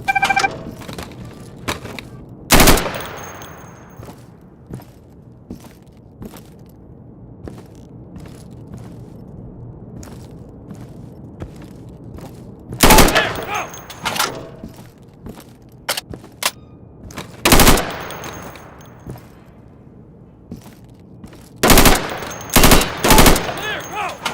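Sharp, loud gunshots in an Insurgency close-quarters training exercise, fired in scattered single bursts and quick clusters with quiet gaps between and room echo trailing each shot.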